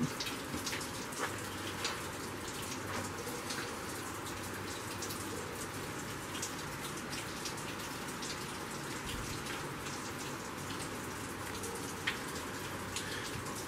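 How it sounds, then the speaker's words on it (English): Water falls from a small spring inside a rock shelter in South Cumberland State Park, Tennessee, making a faint, steady patter and splash that continues evenly throughout, with no one speaking. "I can hear water falling."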